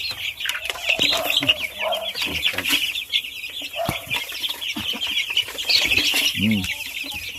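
A flock of free-range native chickens clucks and chatters continuously at close range, with some wing flapping and rustling among the birds.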